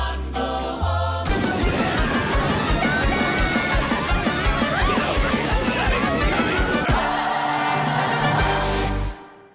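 The opening number of the Beetlejuice stage musical plays as a dense, energetic full-band song with voices, loud and continuous, before cutting off abruptly at the end.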